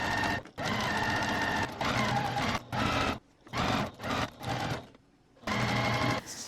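A sewing machine runs along the edge of a gingham pillow case in a series of loud, close stitching bursts separated by brief pauses, with no talking.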